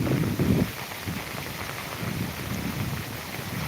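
Heavy monsoon rain pours down at Koynanagar, a steady close hiss of downpour with a low rumbling swell at the start.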